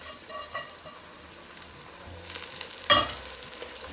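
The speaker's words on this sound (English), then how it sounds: "And now we're going to put the rice in." Rice tipped into onions frying in a pan, giving a steady soft sizzle that swells as the grains go in, with a sharp clatter of a utensil being stirred through partway along.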